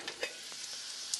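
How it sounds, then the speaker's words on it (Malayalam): Chopped onions sauté in a pan for a chicken curry, a soft, quiet sizzle with a few light stirring scrapes. "സവാള വഴറ്റാൻ വെച്ചിട്ടുണ്ട്. സവാള വഴറ്റി ഇത് വഴന്ന് വരുന്നുണ്ട്."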